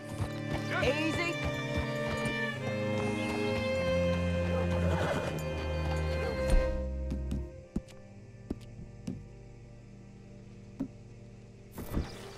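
Steady clip-clop of hooves with a horse whinnying in Red Dead Redemption 2, then the hoofbeats stop and a few scattered knocks and thumps follow in quieter surroundings.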